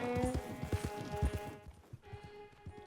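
Horse hooves clip-clop in Red Dead Redemption 2 as a Tiger Striped Bay Mustang is ridden, a quick, loud run of thuds that eases off into lighter, sparser steps over a steady tonal background.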